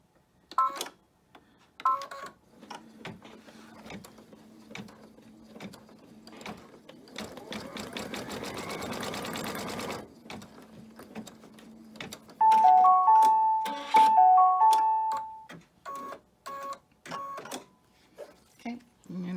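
Sewing machine stitching blue fabric for a Fourth of July flag banner, rapid mechanical chatter in bursts lasting several seconds, close and clear, while a person talks and handles the fabric between runs, with some electronic beeps.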